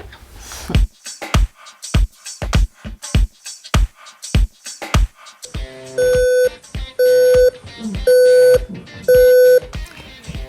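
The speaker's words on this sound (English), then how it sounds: "The alarm clock went off just before 4 a.m." A series of sharp clicks or knocks gives way to an electronic alarm beeping in four evenly spaced bursts, loud and close, with no talking.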